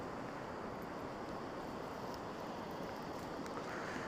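Water rushing beside a mountain road in Kashmir on the Udhampur to Sonamarg route, a steady broadband wash filling the whole stretch with no pauses and no voices.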